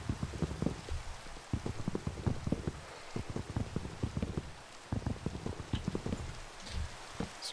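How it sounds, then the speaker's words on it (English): Rain falls in the Minecraft modpack SkyFactory 3, a steady pattering of drops tapping in quick, uneven bursts across the whole stretch, close and fairly soft with no talk. "It's raining."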